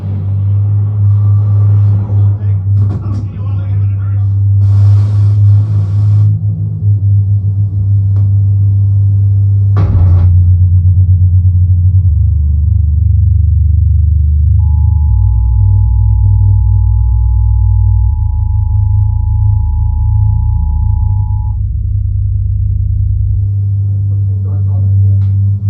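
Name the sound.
Edge of Tomorrow movie intro bass played through Arendal subwoofer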